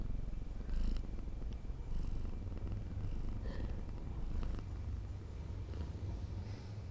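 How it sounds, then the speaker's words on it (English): Soft, rhythmic cat purring, close and fairly quiet, rising and falling in steady breaths with no one talking. "I don't know if you guys can hear him purring on stream here."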